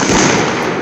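Neighbors' New Year fireworks explode in a loud, dense burst of crackling, booming noise that fills the whole short moment, close and continuous.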